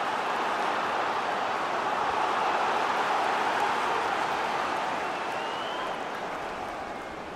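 A broad, roaring video game stadium crowd reaction at a FIFA 22 football match swells and holds, a dense wash of cheering noise that slowly eases off toward the end, with no clear voices.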